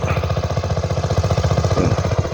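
An engine-driven water pump drains a fish pond, chugging in a fast, steady mechanical rhythm that stays close and even throughout.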